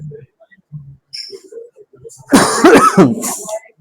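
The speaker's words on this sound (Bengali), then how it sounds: "তাই আর কি কাশি দিলাম।" A person with a cold gives a few throat-clearing sounds followed by a loud, close burst of coughing near the end, with brief voice sounds mixed in.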